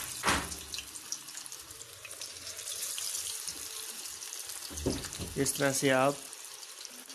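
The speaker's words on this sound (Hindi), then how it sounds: "ऑयल हमारा गर्म हो चुका है और अब हम इसमें फ़िश को फ्राई करने लगे हैं।" Pieces of fish fry in hot oil over a low flame, making a continuous close hiss and crackle while a person speaks briefly at the start and end.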